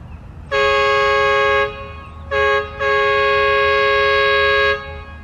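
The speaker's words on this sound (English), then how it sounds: "we're going to do an air horn slash train horn on Walking Tall" Loud multi-tone air train horn fitted to a golf cart, blasting three times: a long blast, a short toot, then a sustained long blast over a low idling rumble.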